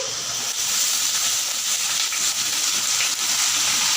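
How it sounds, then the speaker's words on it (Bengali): Eggplant pieces frying in oil for a village-style puti fish curry give a steady, loud broadband hiss with no break and no voices. "বেগুন দিয়ে হালকা করে ভেজে নেব"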